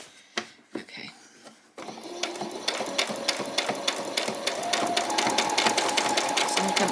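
A sewing machine stitches through a thick layer of fabric on a butterfly and bee costume, a rapid, steady stream of close mechanical clicks starting after a brief pause and continuing without talk.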